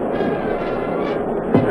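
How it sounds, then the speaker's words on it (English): Anti-aircraft fire bursting overhead during an air raid, a loud continuous rumbling roar with a sharper thump near the end, heavy and distant-sounding. "Just overhead now, the burst of the anti-aircraft fire."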